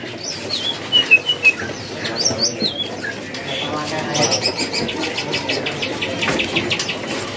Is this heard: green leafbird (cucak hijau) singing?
yes